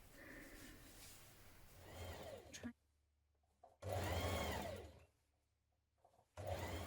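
A sewing machine stitches a shirt yoke in three short bursts, its motor whirring up close and stopping between runs.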